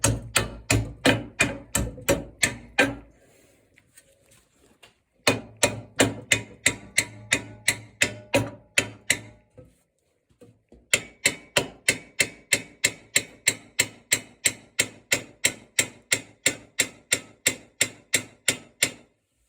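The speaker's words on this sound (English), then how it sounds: "my hammer here, so I can whack it in" A hammer strikes metal and wood in steady, evenly spaced blows, three runs separated by short pauses, close and sharp.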